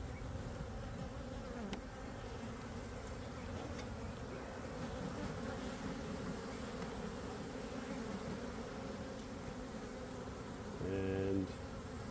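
Honey bees swarm densely around an open brood hive during an inspection, a steady close buzz of many wings filling the air, with a brief louder hum as one passes near the end.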